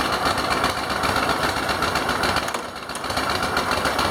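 A 2008 Yamaha XV1700 Road Star motorcycle engine idles in gear with a continuous broadband rumble and a slight dip midway, running alone without any voices.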